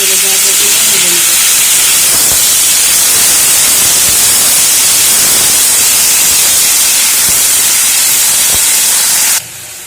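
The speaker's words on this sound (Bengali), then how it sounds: "খুব অল্প পরিমাণে তেল দিয়ে আমি বরবটিগুলোকে ভেজে নেব।" A loud, steady sizzle of yardlong beans frying in a small amount of oil in a wok carries on without a break for nearly ten seconds, then cuts off abruptly.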